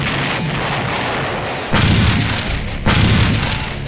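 Super virus bombs explode in a zombie video game, a dense roaring blast followed by two more sudden booming bursts, loud and close with rumbling tails and no talking.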